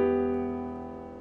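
A piano chord rolled with an octave on G rings out once and decays steadily, solo and close, with no talking over it.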